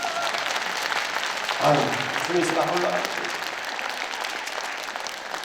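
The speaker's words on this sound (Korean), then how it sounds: "강력하게 박수 좀 해줘." A church congregation in an auditorium at a revival meeting gives sustained, dense applause while someone briefly speaks over it.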